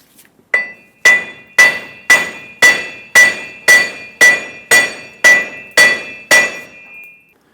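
A hammer strikes a steel axle shaft to drive it out of the front left wheel hub of a 2003-2009 Dodge Ram 2500 5.7L V8, twelve sharp ringing metallic blows at an even, steady pace, loud and close.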